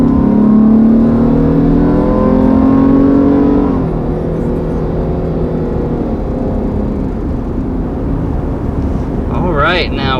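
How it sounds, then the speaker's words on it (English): A 2020 Ford Explorer Hybrid's engine rises under hard throttle, a loud steady drone climbing in pitch and then settling into a broad roar, heard from inside the cabin. "Now, when you get on the throttle real hard, of course, you're not going to be in electric mode for long."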